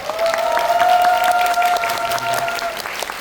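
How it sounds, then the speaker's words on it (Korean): Audience applause in a Megabox cinema hall after a film screening, steady clapping from the crowd with a sustained tone or voice running over it through most of the stretch. "여러분 뜨거운 박수 부탁드립니다"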